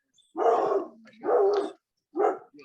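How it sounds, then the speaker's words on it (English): Three loud, close barks from a single dog, the first two long and gruff, separated by a low growl, with a shorter final bark after a brief pause. "That's a dog chiming in."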